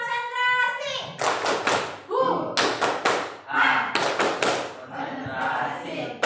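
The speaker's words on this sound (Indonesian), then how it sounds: "Yuk, tepuk konsentrasi." Schoolchildren in a classroom perform a rhythmic concentration clap, chanting together between tight bursts of synchronized claps in repeating groups, loud and close.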